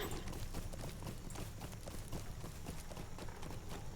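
Horse hooves pound in a steady galloping rhythm as a mount runs through the Lord of the Rings Online video game, the quick clip-clop beats continuous and fairly close under a dense, washy game background.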